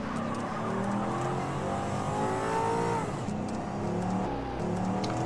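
A video-game car engine from a Red County Roleplay driving session roars steadily and loudly throughout, with shifting revving tones rising and falling as the car accelerates and maneuvers.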